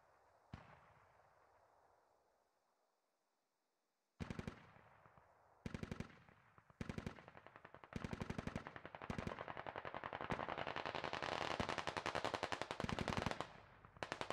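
Automatic gunfire in the SquadOps video game, long rapid machine-gun bursts crackling loud and close after a quiet opening with one early shot, the bursts coming in short groups and then a sustained stream.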